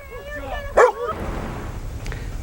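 A trained disaster search dog gives a single short, loud bark near the middle, with a softer yelp or whine just before it and quiet background noise after.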